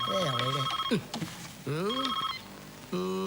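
Telephone ringing for an incoming call in a Telugu film comedy scene, bursts of ringing tone repeating in a rhythmic pattern with voices mixed in between.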